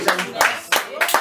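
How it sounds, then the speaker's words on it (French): Rhythmic clapping from an audience at a live presentation at Müllerstrasse 14, with several close, bright claps in steady succession over a short moment. "Alors, applaudissez pour cette dame"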